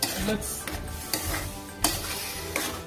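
Spicy kheema being mixed with a whisk or spoon in a pot, giving repeated scraping and clinking strokes against the metal at an uneven rhythm, fairly close, with no talking.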